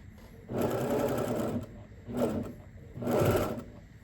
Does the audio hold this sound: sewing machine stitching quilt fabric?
yes